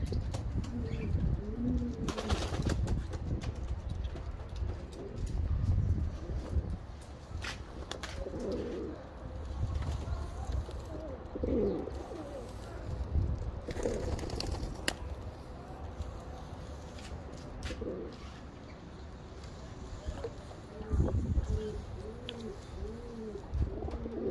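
Pigeons coo in repeated low, rolling phrases, with the odd flutter of wings and some background bustle from the loft.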